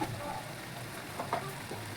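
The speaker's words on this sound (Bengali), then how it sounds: "এই যে সবগুলোকে একটু ভাজা হচ্ছে" Onion, garlic and ginger paste frying in a pan for a Bengali prawn malai curry, making a steady, low, close sizzle with a faint occasional stir.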